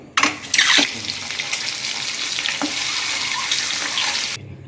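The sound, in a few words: duck eggs frying in oil with turmeric and salt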